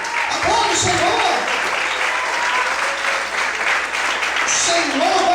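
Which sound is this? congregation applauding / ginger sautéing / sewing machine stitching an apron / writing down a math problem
congregation applauding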